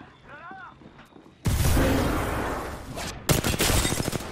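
Heavy automatic gunfire in Apex Legends erupts suddenly and loud after a quiet start with faint voice, sustaining a dense roar, then a second sharp burst of rapid shots.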